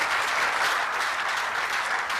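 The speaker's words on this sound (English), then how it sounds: "A big round of applause for St. Flair's Foundation." Audience applause at a disability-themed pageant event honoring a children's foundation, a dense, steady wash of many hands clapping throughout, fairly loud and continuous.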